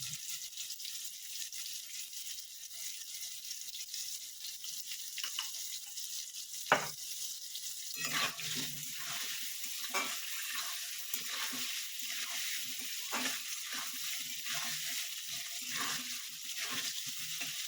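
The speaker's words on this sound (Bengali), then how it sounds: "আলুটা একটু ভাজা ভাজা করে নেব।" Potatoes frying in oil alongside bata fish give a soft, steady sizzle at moderate distance, broken by occasional stirring clinks and light scraping, with no talking.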